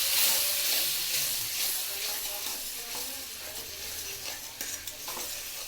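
Spiced food frying and being stirred in a pan, a steady broadband sizzle with scraping stir strokes scattered throughout, close and fairly loud, with no talking.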